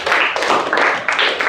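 A classroom of students claps together in short, rhythmic bursts of group applause, close and fairly loud with brief gaps between rounds.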